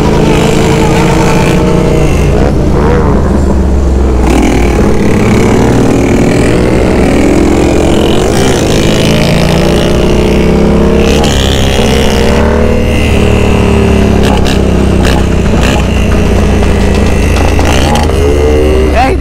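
A motorcycle engine runs at a wheelie stunt event, loud and constant with revving pitch swings and a distorted, saturated roar throughout, with crowd voices and shouting mixed in underneath.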